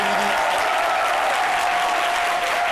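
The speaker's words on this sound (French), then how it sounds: "Merci de vous applaudir très fort" Studio audience applauding loudly and steadily on a midday television show set, a dense continuous wash of clapping with a faint tone running beneath it.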